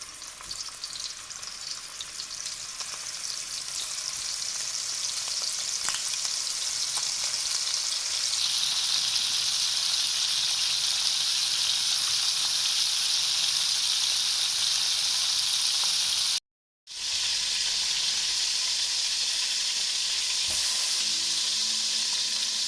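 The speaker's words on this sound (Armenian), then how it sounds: "սկսում ենք տապակել նաև միսը" Meat fries in a pan with a loud, continuous close sizzle and hiss, a few faint stirring clicks, and one brief cut to silence partway through.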